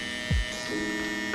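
An electric hair trimmer glides gently over a head during a buzz cut with a low taper, a steady close mechanical buzz with one brief low thump early on.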